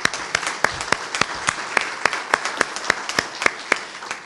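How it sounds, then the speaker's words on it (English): An audience at a Boy Scouts of America Scout of the Year award ceremony claps in a sustained round of applause, individual sharp claps standing out over a steady wash of hands, moderately loud and without speech. "can we give him another round of applause?"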